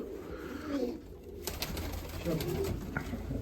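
Pigeons coo repeatedly at a pigeon keeper's loft in Tsarychanka, soft throaty calls close by over steady low room murmur, with a brief quieter gap near the middle.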